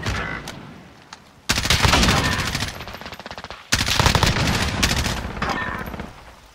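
Loud machine-gun bursts in a shooter game open abruptly after a quiet start, each long volley fading off before a second heavy burst hits, with a few isolated shots scattered around them.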